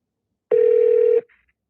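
A single steady electronic telephone ring tone from an unanswered call, clear and alone, lasting under a second before cutting off.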